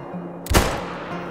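A single loud Tsurugi .338 rifle shot in theHunter: Call of the Wild, a sharp close blast followed by a short decaying tail over quiet ambient background.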